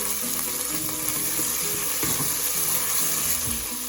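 Onions stir-frying in a pan, a continuous close sizzle with faint stirring scrapes beneath, steady and unbroken throughout.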